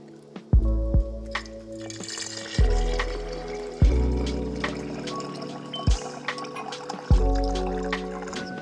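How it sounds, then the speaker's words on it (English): Pot liquor from cooked collard greens poured into a canning jar of northern white beans, a close liquid trickle and splash with several sharp knocks of the container against the jar rim. "I'm just going to add this pot liquor juice from these collard greens."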